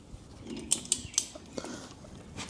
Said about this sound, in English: torque wrench set to 100 pounds